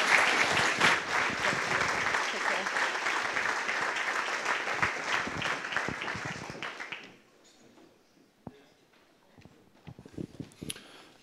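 A university gala audience applauds at a blue carpet gala, with a loud, sustained round of clapping for about seven seconds that then stops abruptly, leaving a quiet room with scattered small sounds.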